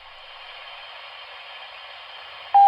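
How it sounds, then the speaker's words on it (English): Steady hiss of static from Godzilla '98 toy walkie-talkies, a continuous band of white noise running evenly and alone until a sharp, louder electronic tone cuts in near the end. "They make a great white noise machine to help me sleep."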